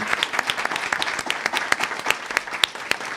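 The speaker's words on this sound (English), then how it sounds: "If we give a round of applause to the panelists who did an amazing job" A seated audience at a hip-hop panel discussion at The New School claps steadily for the panelists, a dense, close crackle of many hands that holds at an even level throughout.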